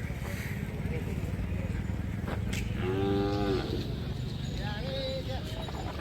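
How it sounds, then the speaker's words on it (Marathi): Native village bulls low at a rural cattle market: one drawn-out, resonant moo rises near the middle over steady crowd and livestock noise, with voices in the background. "आणि हा गावरान बैल जोडे."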